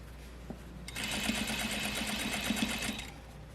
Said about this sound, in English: I'm just sewing right along my line of stitching, taking my pins out as I go